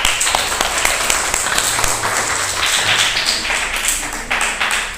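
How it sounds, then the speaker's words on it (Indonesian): Classroom of students claps for group 4 during a lesson practising the Eid prayer, a close, brisk burst of hand claps with sharp individual slaps that stays strong throughout. "Kasih tepuk tangan untuk kelompok 4."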